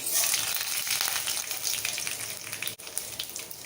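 Steady crackling sizzle of chana dal and urad dal frying in hot oil for tomato kuzhambu, close and continuous, with a brief dip near the end.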